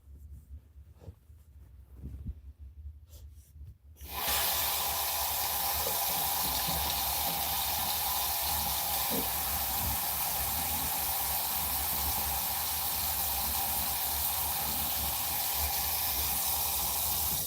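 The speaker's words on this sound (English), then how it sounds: "Because I gotta fill my water bottle." A tap is turned on after a few quiet knocks and runs continuously into a water bottle, a loud, steady hissing gush that holds unbroken until the end.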